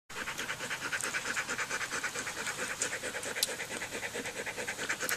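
A dog pants steadily and close by near food, with quick rhythmic breaths continuing throughout and some faint scratching mixed in.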